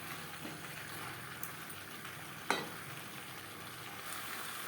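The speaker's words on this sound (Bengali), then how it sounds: "আলুর সাথে মশলা বেশ ভালো করে মিক্সড করে দেবো" Potatoes and spices stirred in a frying pan for a rui fish curry, a steady close sizzle and scrape with one sharp clack partway through, no voices.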